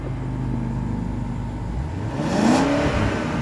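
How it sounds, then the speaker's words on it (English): BMW 750i with its engine idling steadily from behind the car, then revved once in a smooth rising-and-falling sweep, close and fairly loud, with no talking. "We're going to go to the back and do a little rev time with Trish."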